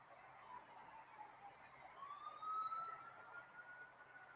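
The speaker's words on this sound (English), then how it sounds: "I hear screeching tires and police sirens outside." A police siren wails outside, faint and distant, its tone rising and sweeping over a low background hum for a few seconds.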